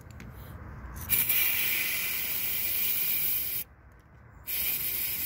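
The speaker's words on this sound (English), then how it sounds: "Spray some starter fluid in here." Starter fluid from an aerosol can hisses into the engine intake of a 2001 Lincoln Town Car in two close, steady sprays separated by a short pause, with nothing else heard.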